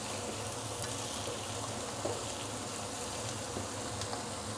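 Prawns frying in a hot wok for soy sauce prawns, a constant close sizzle with occasional light scrapes and pops throughout, no talking.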